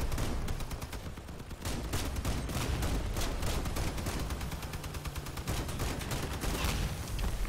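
Rapid bursts of gunfire in the vehicle combat game Crossout, rounds striking tin-can armor plating, a dense, continuous crackling barrage that stays steady and loud throughout with no voice over it.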